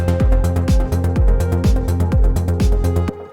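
A synth in Ableton Live 12, set with a shortened decay, plays a loud driving pattern of clipped, punchy notes over a repeating deep kick and bright percussive hits, then cuts off abruptly.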